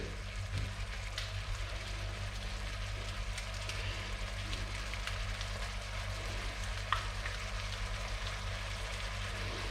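Ground meat cooking slowly in a pan over medium heat for Swiss Hörnli pasta with minced meat, giving off a steady, soft, even sizzle that holds without breaks, with no talking.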